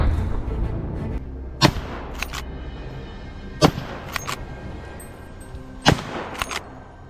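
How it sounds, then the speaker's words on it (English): Suppressed rifle shots during a wild boar hunt, three sharp cracks spaced a couple of seconds apart, each followed by a few fainter clicks, over a low outdoor rumble. "A sharp shot rang out, sending the prey into eternal sleep without a warning."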